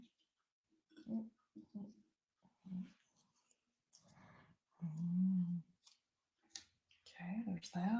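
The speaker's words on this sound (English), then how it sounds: "there's one of my puppies barking" A puppy gives several short, sharp barks and yips in bursts, with a few longer whimpering or growling sounds mixed in, heard indoors against near silence.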